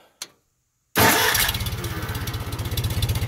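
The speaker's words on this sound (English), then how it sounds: "So I started with the engine off so you can experience how well this starts." A Farmall M tractor with Petronics electronic ignition and 12-volt conversion cranks briefly and fires up, then settles into a loud, steady, rhythmic idle chug close by, after a short click and silence.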